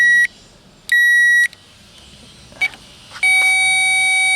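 A Power Probe III circuit tester sounds a series of sharp electronic beeps while testing a Ford Ranger's blower circuit: a short tone, a longer one, a brief blip, then a sustained tone. No one speaks.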